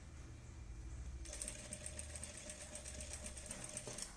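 Sewing machine reverse stitching on a blouse, a faint, steady rapid clatter of stitches heard close up, with a slight change in pitch partway through.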